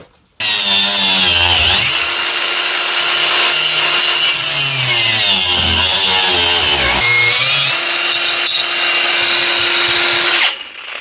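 Angle grinder fitted with a Lidl Parkside cutting disc slicing through a Dewalt drill chuck, a loud, close, continuous metallic whine and screech that shifts in pitch as the cut loads and eases, ending abruptly as the tool stops.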